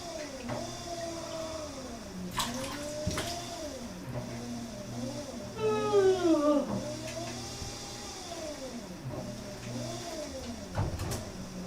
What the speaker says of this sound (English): that was a cute little mew